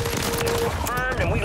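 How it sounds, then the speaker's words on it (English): Rapid automatic gunfire from the Warzone video game on Rebirth Island, a loud dense burst of shots near the player under continuous game sounds, with a voice talking over it. "I'm getting shot in the back from prison."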